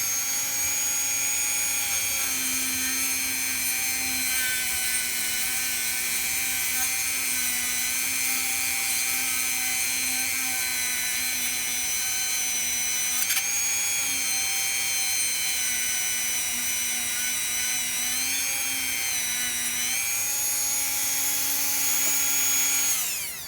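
A Dremel rotary tool grinds a racing tractor's exhaust pipe, a steady high-pitched whine running nearly unbroken at close range with slight dips in pitch as the load shifts.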